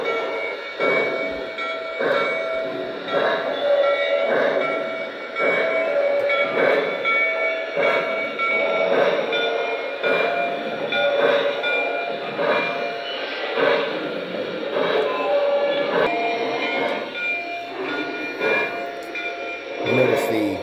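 A Lionel Legacy model steam locomotive runs steadily with a rhythmic chuffing pulse and sustained whistle-like tones, close and fairly loud throughout, with a faint voice at moments.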